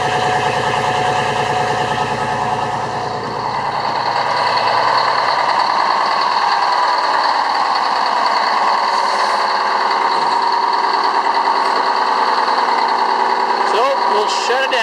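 A boat's port engine idling steadily, a loud continuous droning hum with tonal harmonics that lighten after a few seconds and hold evenly, with someone talking over it.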